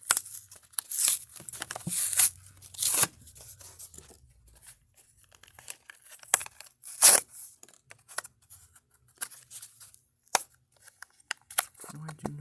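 Packaging being torn open while unboxing a silver Matchbox Tesla Model X toy car: close, sharp ripping bursts and crinkling of cardboard and plastic, coming in irregular spurts separated by quiet pauses.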